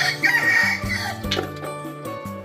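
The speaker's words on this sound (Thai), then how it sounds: "ไก่พี่น้อง" Chickens clucking and a rooster calling in a rural Thai setting, with layered clucks and crowing close by, loud and busy over the whole stretch, no talking.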